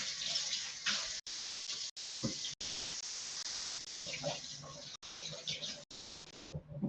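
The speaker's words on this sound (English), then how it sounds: "I just need to wash my hands quickly" Hands being washed under a running bathroom tap, with a continuous splashing stream broken by brief pauses, heard close, while a person talks over it.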